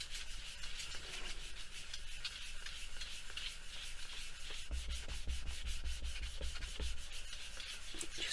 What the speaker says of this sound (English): I'll just give this a nice burnish.